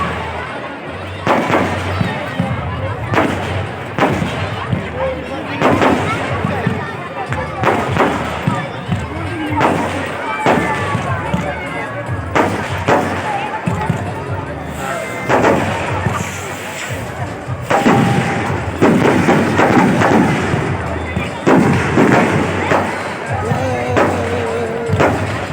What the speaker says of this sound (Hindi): फुलझड़ी और पटाखे उठाए जा रहे हैं उनसे दूर रहें